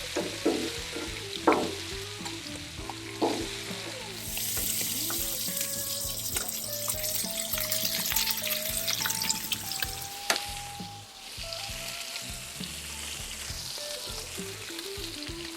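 Bacon frying on a Blackstone griddle, a loud continuous sizzle with crackling pops, interrupted by scraping and a brief rush of water, close and without talk.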